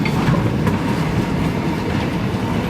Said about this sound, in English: There's an old tram for you.